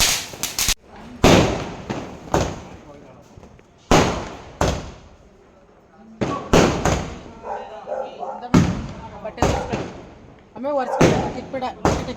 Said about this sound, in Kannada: ನಮ್ಮ ರೂಮ್ ಫುಲ್ಲು ಪಟಾಕಿ ಹಾಕ್ಬಿಟ್ಟವ್ರಿ ನೋಡಿ